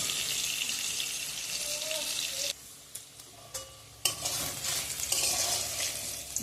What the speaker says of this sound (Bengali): একটু কালার যাতে চলে আসে সেই রকম করে আমি একটু ভেজে নেব আলুগুলো